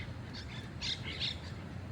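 A hoopoe calls outdoors in Israel, with a few short, fairly faint hooting-chirp notes over a soft background hum.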